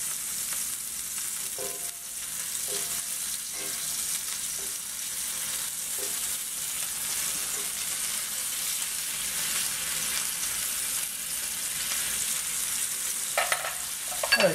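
Steak sizzling in a cast iron skillet, a steady bright hiss of frying fat throughout, with a few soft clinks and scrapes from turning the meat and a louder clatter near the end.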